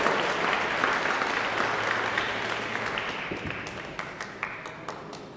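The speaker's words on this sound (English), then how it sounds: "give a round of applause" A crowd at a church benefit auction applauds loudly, the dense clapping gradually thinning out into a few scattered individual claps at the end.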